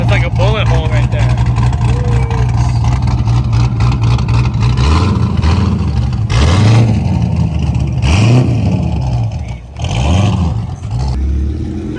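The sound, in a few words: car with LS engine and big cam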